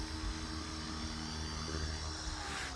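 A REX 450L radio-controlled helicopter hovers at centre pitch with too little pitch to raise the rotor speed, giving a steady, close, continuous whine and buzz of rotor and motor with no break.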